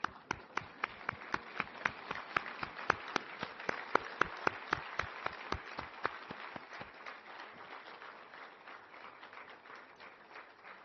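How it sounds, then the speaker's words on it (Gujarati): Audience at a State CIC concluding ceremony for RTI Week 2025 standing to applaud, sharp regular claps ringing out for about seven seconds before fading into a softer scattered patter of hands, no voices. "આપણે એના સન્માનમાં ઉભા થઈને તાળીઓ પાડીએ."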